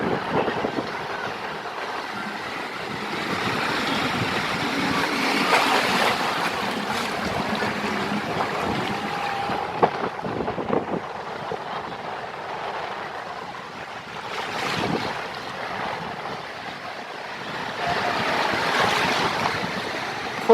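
Sea waves breaking on a beach in strong wind, a continuous broad roar of surf rising and falling in surges, near and steady.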